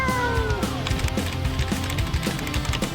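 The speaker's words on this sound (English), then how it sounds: "now there's a cat stuck up a tree" A cat stuck up a tree meows, a drawn-out cry at the start followed by a rhythmic, busy backing of beats and effects.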